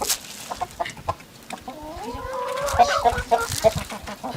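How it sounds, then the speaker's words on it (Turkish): A chicken clucks in a short series of calls that rise out of rustling, handling noise and scattered faint sounds. "Tavuk burada."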